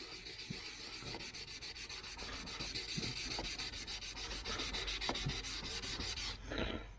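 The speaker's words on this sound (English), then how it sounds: "Got some water and got some 600 grit sandpaper. And what we're going to do is just sand the rest of that old crap off." Steady rhythmic scrubbing of 600 grit sandpaper with water across a car headlight lens, a continuous wet rasping stroke repeated back and forth at close range, with no talking.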